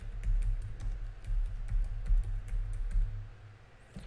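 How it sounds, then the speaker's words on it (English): Typing on a computer keyboard while entering text into a web search bar, a steady patter of light key clicks over a low hum, close and moderately quiet. "Here we can type any text"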